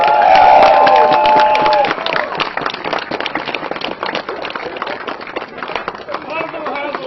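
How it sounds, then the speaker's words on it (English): Crowd at an Amazon workers' union rally in Schodack clapping and cheering for Heather, a dense burst of claps and shouts that starts loud, then continues steadily at a slightly lower level with voices mixed in. "you guys clap it up for Heather"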